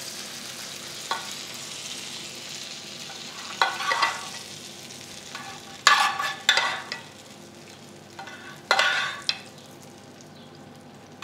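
Almonds added to a frying pan beside trout fillets, giving a steady low sizzle with a few louder crackling bursts and scraping stirs, close and without talk.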